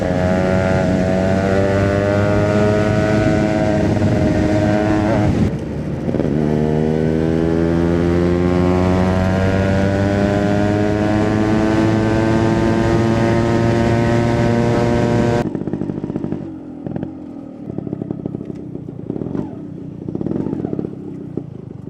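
Yamaha RX100 motorcycle engine running and revving, with rising and falling harmonic engine tones over about fifteen seconds before dropping to a quieter idle with scattered knocks.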